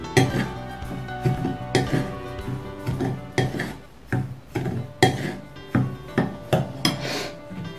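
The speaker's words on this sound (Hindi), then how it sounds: "अब मैं इसको अच्छे से मिला लेती हूँ।" Semolina batter with salt being mixed in a bowl, a spoon scraping and knocking against the sides in a steady, regular rhythm of strokes, close and clear.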